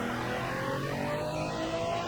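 A video game car, the Fatass mobile, roars in a dense, loud, steady engine rush as it launches, with no speech over the sound.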